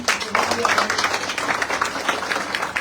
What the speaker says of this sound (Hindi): तो एक बार जोरदार ताली होनी चाहिए।